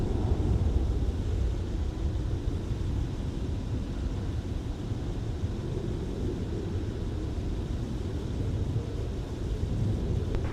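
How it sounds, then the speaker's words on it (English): A Jazz Aviation Embraer E175 jet departs MSP airport in winter, a loud, steady, broadband engine roar that rumbles continuously throughout. "Jazz Aviation departing with the E175."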